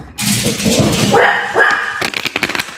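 A pet dog barks and yips several times in quick succession near the microphone, the sharp barks clustered toward the end after a brief whine.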